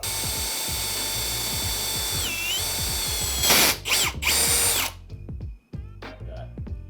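A power drill whines steadily at high speed while drilling out an old wooden axe handle, dipping in pitch as it bites, then a burst of grinding before the motor winds down into clicks and knocks.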